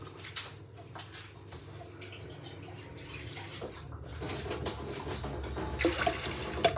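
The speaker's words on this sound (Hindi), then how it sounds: "तो मैंने इसमें अराउंड 2 कप के करीब जो है वो पानी ऐड किया है।" Water poured into black masoor lentils in a pressure cooker, a continuous splashing pour that builds louder toward the end, close and alone without talk.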